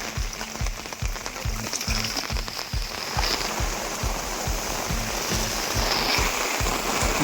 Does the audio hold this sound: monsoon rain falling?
yes